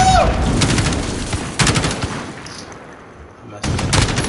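Rapid bursts of automatic gunfire from a PS4 shooter game come in loud, clustered volleys, with a brief lull in the middle before the shooting resumes.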